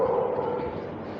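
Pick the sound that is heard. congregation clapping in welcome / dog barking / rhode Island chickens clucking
dog barking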